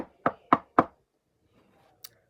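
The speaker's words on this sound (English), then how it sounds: "a couple minutes later we hear a knock" Three sharp, evenly spaced knocks on a door, close and clear, followed by near silence and a faint click.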